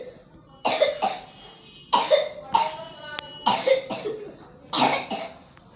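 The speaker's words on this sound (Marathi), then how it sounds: "इतका खोकला येऊन राहिला" A young child with a bad cough coughs repeatedly in short harsh bursts, mostly in pairs, close and loud with quiet gaps between fits.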